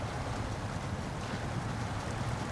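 Truck engine in SnowRunner labouring through a river, heard as a steady dense wash of water and low rumble with no distinct peaks, fairly quiet throughout.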